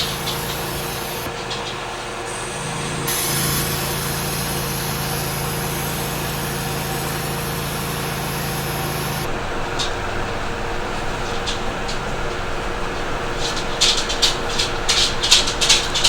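A saw cutting through a log with sawdust pumping out, a steady harsh grinding drone that shifts partway through, then a series of faster rasping strokes near the end, close and loud without talk.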